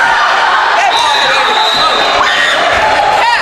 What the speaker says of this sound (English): It's just yelling at the refs.